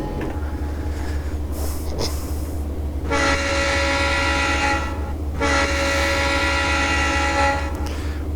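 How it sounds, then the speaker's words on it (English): A loud, sustained locomotive horn of an Amtrak EMD E8 in Train Simulator Classic blares twice, each blast lasting a couple of seconds, over a steady low rumble of engine noise. "Not the worst sounding horn sound."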